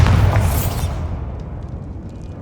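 A Bombarda blasting spell in the Hogwarts Legacy video game bursts into a loud, booming explosion right at the start, then a rumbling tail that slowly decays over a couple of seconds with faint debris crackles.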